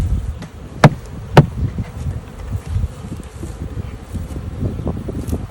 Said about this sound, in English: These bees everywhere.